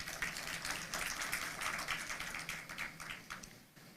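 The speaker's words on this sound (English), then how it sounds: "I think you deserve a round of applause" Judiciary staff receive a round of applause at the State of the Judiciary annual report event, with dense, sustained clapping from a large indoor audience that holds steady for several seconds before thinning out.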